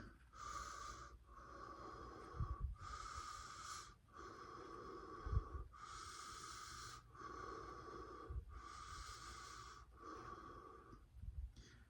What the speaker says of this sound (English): So if you can breathe deeply in this position